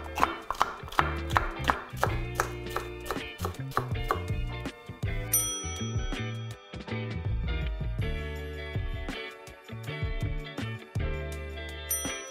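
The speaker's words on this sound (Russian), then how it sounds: "Можно вот, например, перец порезать." Knife chopping bell pepper on a board for a cold Spanish gazpacho, a quick run of sharp, evenly spaced taps close up, continuing steadily with brief pauses while music plays underneath.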